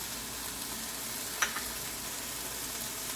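Capsicum sautéing in a pan for chilli paneer gives a steady, soft sizzle with one brief clink partway through and no talking.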